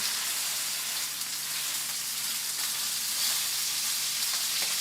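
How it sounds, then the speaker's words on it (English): Loud, steady sizzling of meat searing in a very hot pan, a dense crackling hiss with occasional pops, no talking. "We're developing a sear on it."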